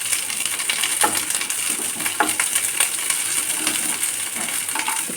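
Chopped onion frying in oil in a pan over low gas for a vegetable curry, a steady close sizzle with scattered crackles and a few soft clinks of stirring, no talk.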